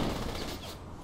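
Rapid gunfire from the video game Saints Row The Third, a dense one-second burst of shots that fades slightly toward the end.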